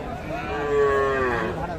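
A bull calf moos once in a long, drawn-out call, close by, with a faint murmur of cattle market noise underneath at Raniganj market.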